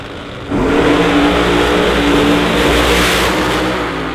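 Drag race cars, one a twin turbo, launching and accelerating hard at a Bradenton drag race, a loud sustained engine roar that bursts in after a quiet half second and holds steady.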